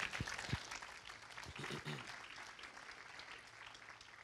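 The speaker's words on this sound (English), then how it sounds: "You can give God a hand clap right there." Congregation applause at a church sermon: many hands clap together in a dense, steady patter that stays fairly even for about four seconds, with a few louder close claps near the start.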